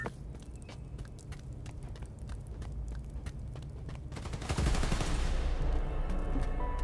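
Rapid crackling gunfire at a power station in the video game Spider-Man: Miles Morales, a quick series of sharp shots that swells into a louder, denser burst of fire near the end.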